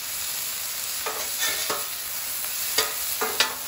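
Ribeye browns on a flat-top griddle under a steady close sizzle, broken by several scraping spatula strokes and a few louder bursts, with no talking.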